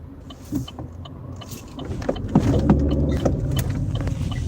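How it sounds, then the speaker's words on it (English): Several cars rolling past in a convoy, a steady low road rumble that swells partway through, with faint knocks and mechanical ticks over the engine drone. "There was a convoy of cars."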